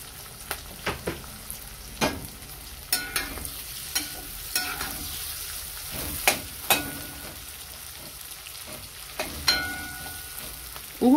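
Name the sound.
onion frying in oil for homemade plov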